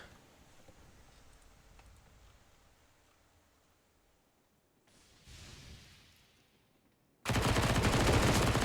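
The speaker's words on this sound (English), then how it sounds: "Nico with the kill on the AK" AK rifle firing in a Counter-Strike match on the Train map, a loud sustained burst near the end after a quiet stretch of faint ambient game noise and a brief swell.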